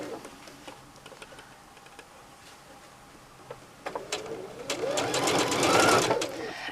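A sewing machine stitches a quilt seam, a few faint ticks and clicks first, then a close, steady whirring run of rapid stitching that grows louder toward the end.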